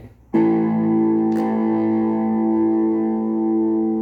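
A single loud electric guitar chord with single-coil pickups, distorted through an MXR germanium distortion pedal, rings out and sustains for several seconds, thick and buzzing, with a faint pick scrape partway through.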